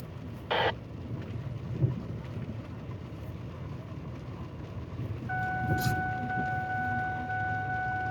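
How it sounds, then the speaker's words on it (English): Rain falling on Columbus Avenue with slick roads, a soft steady hiss mixed with passing traffic rumble. A brief thump comes early, and a faint steady tone sets in near the end. "And it's raining, so roads are kind of slick."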